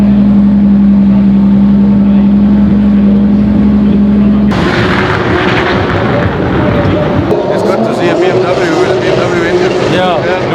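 A drift car's engine roars loud and close at a motorsport event in Valencia, a steady high-revving drone that shifts midway into harsher, rasping bursts, with people talking over it.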